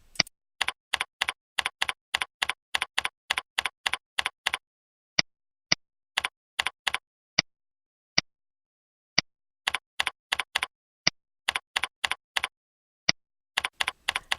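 Computer keyboard typing as citation details are entered into an online tool, short bursts of crisp clicking keystrokes separated by pauses and single isolated taps, close and clear with no talk.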